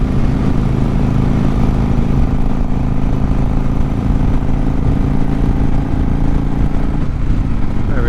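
Steady, loud motorcycle engine running continuously during a warm-up ride, with a constant droning mid-range note and no pauses.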